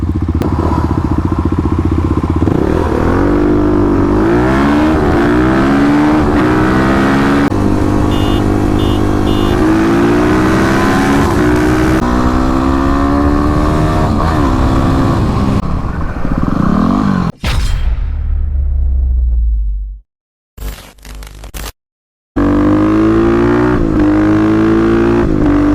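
A Kawasaki KLX351 dual-sport motorcycle rides along, its engine droning loudly and rising and falling through the gears, then cutting out abruptly into near silence before resuming briefly.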